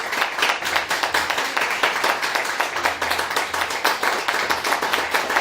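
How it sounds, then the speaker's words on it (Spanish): A church congregation claps together in an offering of applause during a service, a dense, fast rhythmic patter of many hands, loud and steady throughout with no speech. "Es una ofrenda de palmas a mi pueblo."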